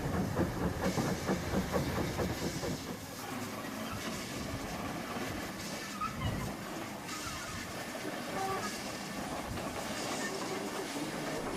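Pre-grouping era steam locomotive shunting on a railway, with a continuous rumble, rhythmic clanking of wheels and couplings, and hissing steam, fairly near and steady throughout.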